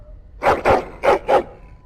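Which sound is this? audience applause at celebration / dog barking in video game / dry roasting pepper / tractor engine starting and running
dog barking in video game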